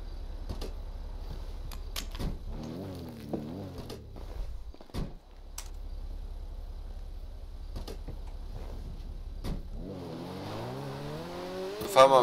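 A car in GTA roleplay drives along with a steady engine drone and rising revs as it accelerates, broken by several sharp clicks and thumps, with a louder surge near the end and no talking.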